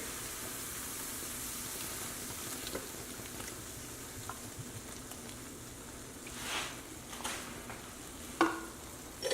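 Heavy cream goes into a hot pan of shallot-mushroom sauce for pan-seared chicken scaloppine and is stirred, a soft, low sizzle broken by gentle stirring scrapes and a couple of louder clanks.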